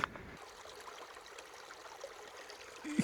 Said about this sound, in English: Can you hear that? That is running water.